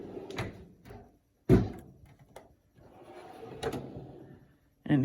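A Harbor Freight US General metal tool box drawer slides open and shut several times, each pull giving a short rolling rattle followed by a sharp knock, with quiet gaps of handling in between.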